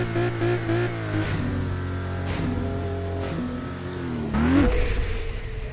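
Ford Mustang V8 launching in Test Drive Unlimited 2, a close, loud engine drone whose pitch wavers, dips and then surges in a hard rev near the end, with no talk.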